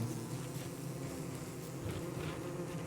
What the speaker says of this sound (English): Go away, bees.